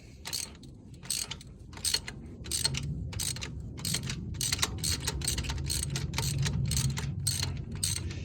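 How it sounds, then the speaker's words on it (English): A socket wrench ratchets while breaking loose a spark plug on a Toyota 2RZ engine, giving a steady run of crisp, evenly spaced clicks up close, with no talking. "so we'll break it loose with this one"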